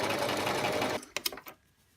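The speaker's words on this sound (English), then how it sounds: "the foot is guiding the beads centrally through the machine" A sewing machine fitted with a beading foot stitches a strand of beads onto fabric, whirring loudly and continuously for a second, then stopping with a few sharp clicks and faint mechanical taps.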